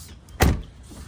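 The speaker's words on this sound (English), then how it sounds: "As you can see on the Tesla Model S, you have the presenting where it can go in and it presents itself" A Tesla Model S flush door handle motors outward with one brief whir lasting a fraction of a second, heard close up against a quiet background.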